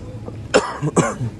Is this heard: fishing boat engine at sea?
no